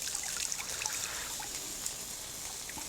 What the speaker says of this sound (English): So you just take the basil, give it a good squeeze,